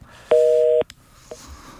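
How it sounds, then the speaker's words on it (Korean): A telephone busy signal sounds after a dropped call on a radio phone-in: a single steady two-tone beep lasting about half a second, fairly loud, then a faint click and a brief, quieter tone fragment. "전화 끊어졌네요"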